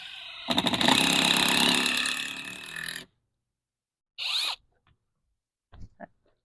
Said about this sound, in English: I'm going to line the Phillips screw up here on the deck board. Make sure your screw gun is in the forward position.